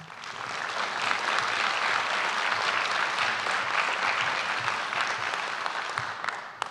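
A graduation audience at UIC Rockford bursts into sustained, loud applause as Dean Rosenblatt is welcomed. The clapping swells quickly and holds steady before tapering at the end.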